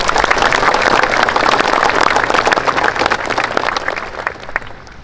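Sustained applause from an audience at a Hardiknas (National Education Day) ceremony speech in West Java, dense clapping filling the whole span and tapering slightly toward the end.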